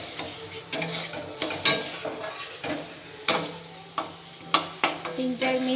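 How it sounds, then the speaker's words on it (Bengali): Potatoes go into spiced oil for Bengali aloo dum, frying with a sizzle while a spoon scrapes and clinks against the pot in repeated, irregular strokes. "এবার আলুগুলো দিয়ে দেবো।"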